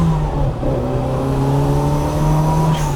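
A turbocharged 1990 Rover Mini Cooper, left-hand drive, accelerates from inside the cabin, its engine droning steadily upward under load, loud and close with no talk.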